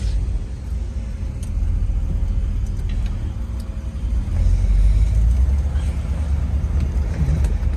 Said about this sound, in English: Mercury Monterey test drive